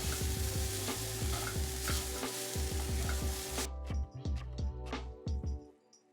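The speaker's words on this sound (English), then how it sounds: "Now I'm gonna add in the plant-based Italian sausage crumbles." Plant-based Italian sausage crumbles sizzle steadily in a pan, with repeated stirring scrapes and clicks over the frying, then the sizzle drops away, leaving sparse utensil taps.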